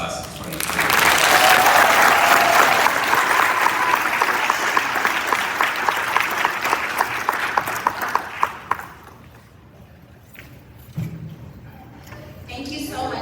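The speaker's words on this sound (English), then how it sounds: "Give another round of applause." A graduation ceremony audience breaks into loud, dense applause that holds steady for several seconds, then thins into scattered claps and fades, with a brief voice near the end.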